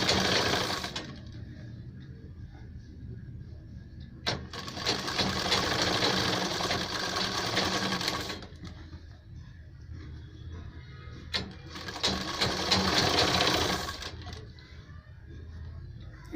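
Sewing machine stitching a sleeve onto a ladies' kurta, running in two long, even bursts of steady whirring with a quieter pause between them.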